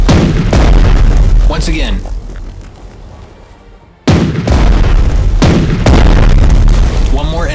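Armor-piercing ship cannon fire in a PC strategy game set in an alternate WWII era, with heavy booming blasts that open and close the stretch, a quieter gap between them, and a voice speaking over the gunfire.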